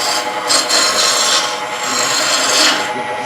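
A woodturning gouge cuts off the bevel into spinning wood on a lathe, giving a steady, loud, raspy scraping hiss that swells and eases slightly across the cut, close up with no talking.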